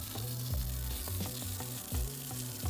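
Julienned zucchini, also called baby marrow, sizzles and crackles in a pan with leftover aubergine, a steady fry with stirring scrapes and clatters, no voices.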